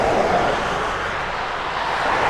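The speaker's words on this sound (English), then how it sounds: "apologise for the road noise" Steady broadband roar of passing road traffic by a countryside estate entrance in the Lincolnshire Wolds, continuous and fairly loud, with no talking over it.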